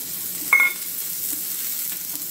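Onion frying in a little hot olive oil, a steady close sizzle with a brief sharp hiss and stir near the start.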